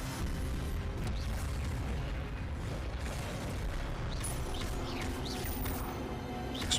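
A fire spell cast in Hogwarts Legacy, played on PS5, rumbles as a dense, steady boom-like roar that stays loud and continuous throughout, with no speech over it.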